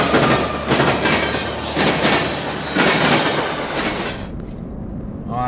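Norfolk Southern freight trains meet eastbound and westbound in southwest Tennessee, passing close and loud with rolling wheel clatter and rumble that cuts off abruptly near the end.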